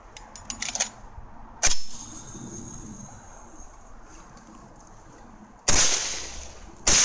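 A suppressed Bushmaster .223 bullpup rifle, fired through a 7.62 suppressor on an adapter, lets off two sharp, loud cracks several seconds apart outdoors, with fainter clicks early on.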